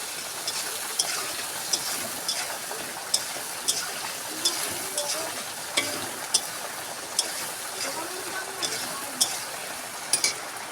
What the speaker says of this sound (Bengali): পেঁয়াজটাকে ভালো করে ভেজে নেব লাল লাল করে।